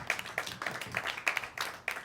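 Scattered claps from a comedy show audience greeting the finalists, a sparse, uneven patter of individual hands rather than a full ovation.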